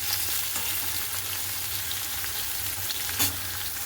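Food fries in a pan with salt and turmeric, making a loud, continuous close-up sizzle. Faint stirring clatter sits under the hiss, and one sharper crackle comes near the end.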